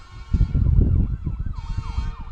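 Ambulance siren wailing in a GTA video game scene, a loud rising and falling electronic siren with a steady droning vehicle rumble beneath, continuous and close throughout.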